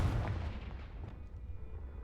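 Confringo fire spell blasts in Hogwarts Legacy, a heavy booming burst up front that rumbles and fades over about two seconds, with no speech.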